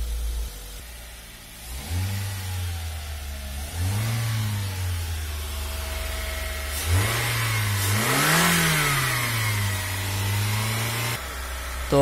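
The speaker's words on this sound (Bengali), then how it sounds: "এখন ইঞ্জিন স্টার্ট অবস্থায় আছে। তো গাড়িতে কোনো নকিং নেই, কাঁপাকাঁপি নেই, স্মুথভাবে চলতেছে" A Toyota Hiace van engine runs smoothly without knocking, rising and falling through several moderate revs from a steady idle, close and continuous with no talk.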